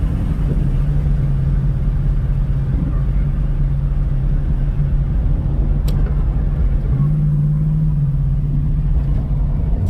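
A Barracuda Hemi idles with its exhaust cutouts open, giving a steady, loud, low rumble that swells slightly near the end, with no talking.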